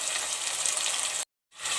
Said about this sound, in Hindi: कीमे को मैंने 1 से 2 मिनट अच्छी तरीके से भून लिया है